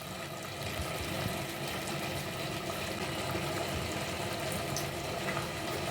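Sugar syrup with half a lemon's juice boils steadily in a pan, a continuous dense bubbling hiss at even loudness throughout, with no voices.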